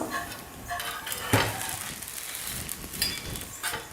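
A thin, crisp dosa, lightly oiled, sizzles on a hot pan just after being flipped, a moderate crackle with clinks of a spatula against the metal and one sharper knock, and no voices.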